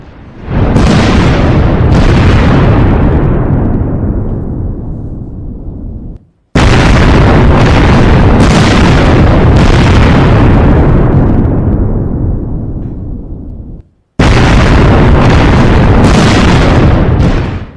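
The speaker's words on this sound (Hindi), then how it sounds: "इतना भीषण हादसा हुआ, फैक्ट्री में धमाका" Huge blasts from a chemical factory explosion roar out three times in succession, each a loud, broad boom that rumbles and slowly decays before the next one hits, with nothing else heard between them.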